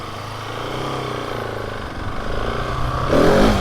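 A brand-new KTM 701 Enduro motorcycle engine runs steadily, then revs harder toward the end, loud and close.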